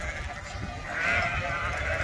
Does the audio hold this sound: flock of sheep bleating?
yes